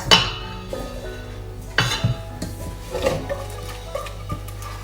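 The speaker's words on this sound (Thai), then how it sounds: "เราจะใช้ไม้พายนะคะ นวดก่อนนะคะ ให้เขาคลายความร้อนนิดนึงนะคะ" A wooden spatula pressing and working hot flour dough for chewy Thai dong daeng noodles, with close, intermittent clacks and scrapes against a bowl over a steady low hum.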